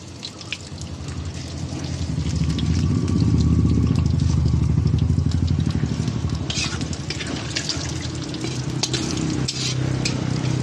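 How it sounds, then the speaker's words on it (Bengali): Whole cumin seeds crackle and sizzle in hot oil with dried red chillies and bay leaves, a dense, close, steady frying hiss that swells in the middle and holds to the end, with faint low tones underneath. "এবার এতে একটু গোটা জিরা দিয়ে দেবো।"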